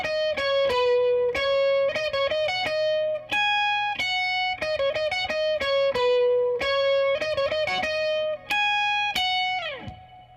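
Electric lead guitar plays the melodic lead part of a song, a run of clear sustained notes and quick phrases with effects, ending in a downward pitch bend, played alone and loud.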